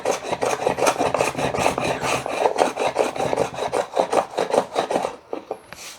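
A hand plane scrapes across wood in rapid, regular rasping strokes, close and steady, slowing to a few last strokes before stopping.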